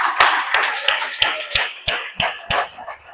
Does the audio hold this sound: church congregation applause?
yes